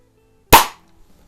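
A vintage Benjamin Trail NP .177 break-barrel air pistol fitted with a Burris 2x scope fires once, a sharp, close crack that decays quickly into quiet.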